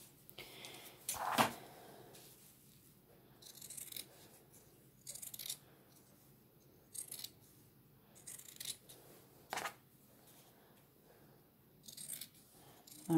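Several short, crisp scissor snips trimming fabric come in scattered bursts with pauses between them, close by in an otherwise quiet room.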